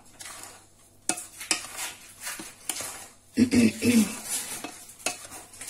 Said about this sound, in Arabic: غادي نخلط هاد النواشف مع بعضياتها غير بالمعلقه